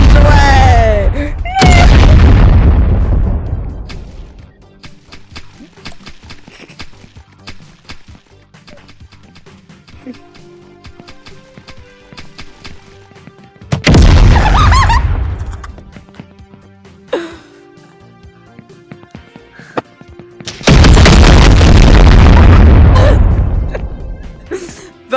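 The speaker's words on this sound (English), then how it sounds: "Bombs away!" Bombs exploding in the VR game Animal Company: three loud, close booms with long decaying rumbles, separated by quieter stretches of faint clicks and background noise.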